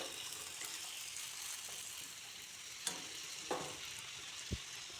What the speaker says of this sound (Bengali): নিচ দিকটাই তেলে ছাড়তে হবে। তারপর এগুলোকে এইভাবে নাড়তে হবে।